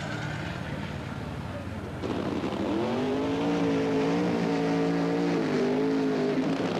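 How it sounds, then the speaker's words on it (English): A funny car does a long, smoky burnout at the 1977 NHRA Gatornationals drag races in Gainesville, Florida: a loud, sustained engine roar that swells and holds, with a commentator talking over it. "A long, smoky burnout."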